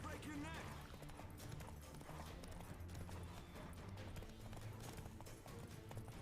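Geralt's horse Roach gallops in The Witcher 3 video game, steady rapid hoofbeats thudding under constant game music and a talking voice throughout.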